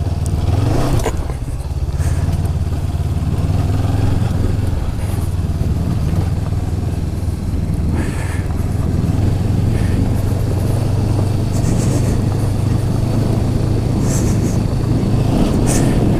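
A 2019 Honda CB500X motorcycle engine runs loud and steady throughout a test ride, a continuous rumbling drone with wind and road noise, close to the rider.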